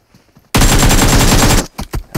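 Loud burst of automatic gunfire from a weapon in the PUBG Mobile video game, a dense rapid volley lasting about a second after a quiet lead-in, then a few faint trailing sounds.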